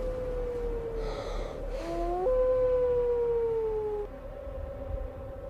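An Arctic wolf on sea ice howls in a long, clear wavering note that rises and then slowly falls. A second howl briefly overlaps it. The wolf sounds moderately distant over a low windy background.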